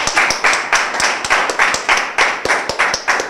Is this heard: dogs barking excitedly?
no